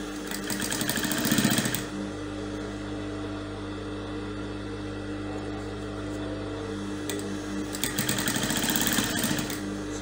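Sewing machine stitching an Ankara fabric flounce skirt, a steady close mechanical hum with faster, louder runs of stitching at the start and end.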